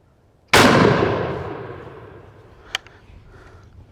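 A single loud, close gunshot from a Harpers Ferry Model 1842 rifled musket at an outdoor range, with a sharp crack and a long decaying boom, followed by a faint distant impact.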